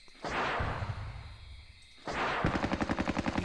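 Gunfire from the Squad Battles Tour of Duty war game comes as two sharp bursts, a blast, a pause, then a rapid rattling volley of evenly spaced shots, loud and close with no talking.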